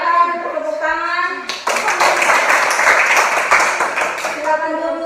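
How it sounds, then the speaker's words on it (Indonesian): Children clapping their hands together in a classroom exercise session, a burst of rapid, dense clapping lasting a few seconds, loud and close, with children's voices speaking before and after. "Silakan tepuk tangan."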